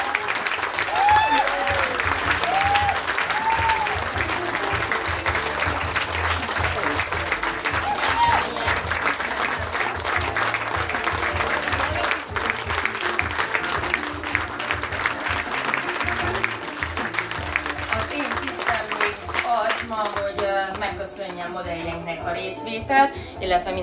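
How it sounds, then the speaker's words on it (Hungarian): An audience claps warmly at a fashion show, a continuous, lively round of applause lasting over twenty seconds, with voices calling out early and a speaker's voice joining near the end. "hogy mindenki egy nagy tapsot kapjon."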